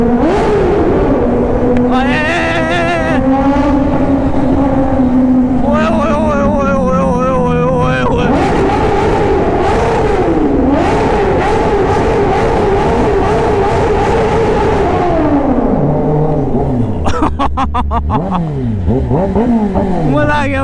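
A Kawasaki ZX10R motorcycle engine revs hard inside a tunnel, its pitch climbing and falling through several loud, echoing bursts, with speech heard along the way.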